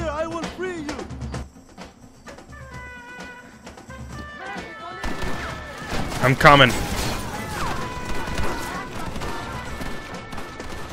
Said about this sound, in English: They're shooting every- there's gunfire everywhere.